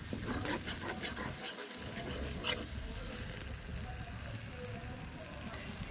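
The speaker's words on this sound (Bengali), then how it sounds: "ফোড়ন আর পেঁয়াজ তারপরে আদা বাটা লঙ্কা বাটা আর জিরে বাটা দিয়ে মশলাটাকে কষিয়ে নিব প্রথমে" Spice paste of fried onion, ground ginger, ground chili and ground cumin, with dried chili and cumin tempering, frying in a pan for ghugni; a steady close sizzle with light patter and a brief clatter near the start.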